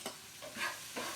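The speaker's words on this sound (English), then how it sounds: "Notice our sizzle isn't quite as loud as it was when we got started with this" Onions sizzle in ghee in a pan and are stirred, a soft frying hiss rising and falling in a few brief surges with no voices.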